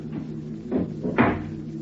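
A door in an old-time radio drama, the Adventures of Superman, opening softly and then closing, with two soft thumps near the end, heard alone over a low steady hum.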